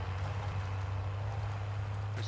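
A vehicle engine drones steadily at a low, constant idle in Call of Duty Warzone, with a faint, brief chirp near the end and no speech.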